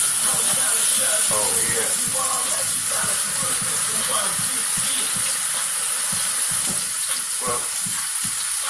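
Food frying in a hot pan gives a steady, loud sizzling hiss throughout, with brief stirring and clatter; someone talks casually over it.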